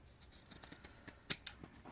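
Scissors trim the fabric edge of a journal cover with a string of faint, close snips and light rustling, soft and irregular with no voices.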